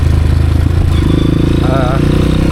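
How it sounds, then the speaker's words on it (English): Honda CRF 230F dirt bike engine on a mountain trail, a loud steady close motor drone with a slight pitch rise, as if revving while engine braking, with what sounds like a voice layered over it. "I'm mostly going to use engine braking because of that funny rear brake and also the front brake."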